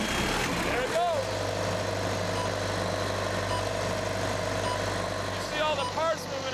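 A refrigeration unit on a train car runs with a steady mechanical hum and rattle of moving parts, continuous and close, with people talking over it.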